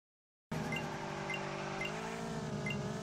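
A race car in the Roblox game Drive World revs steadily at high engine pitch on a race circuit after a short silence, the tone dipping slightly as it brakes, loud and continuous.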